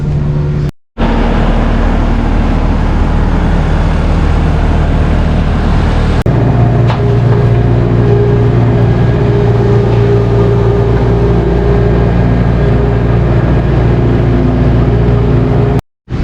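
A tractor and wagon running on a farm beside silos, giving a loud, steady low engine drone that holds constant throughout and picks up a rougher tone partway in, with no talking.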